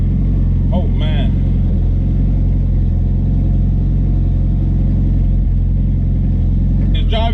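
A 700HP turbo Honda Civic EK drives along a New York street with a steady, loud, close engine drone and rumble throughout, while occupants talk and whoop over the noise.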